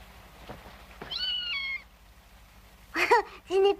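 A kitten meows in a French cartoon, three high, wavering cries rising over a quiet background, the first drawn out and the last two short and close together.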